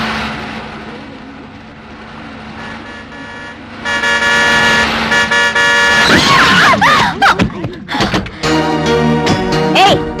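After a low hum, a loud car horn blares in a long sustained blast, then sounds again in several short, insistent honks.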